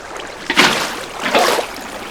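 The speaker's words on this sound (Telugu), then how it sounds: "ఏంటి ఇక్కడ వాటర్ వస్తుందా?" Flowing water in a block-building video game, heard as two short rushing, splashing bursts a moment apart, fairly close and clear over a quiet background.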